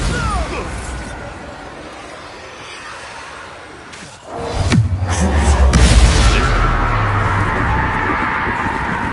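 A Bombarda blasting spell goes off in Hogwarts Legacy, a sudden booming crash after a brief lull, followed by a sustained rumbling roar and debris, with voices speaking over parts of it.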